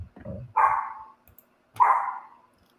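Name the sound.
dog barking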